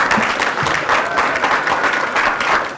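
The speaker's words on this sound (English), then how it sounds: "Give her a round of applause." Steady applause from an audience greeting a volunteer called up on stage at a live Lizardman sideshow performance, dense and continuous for the whole stretch, with a few faint voices mixed into the crowd noise.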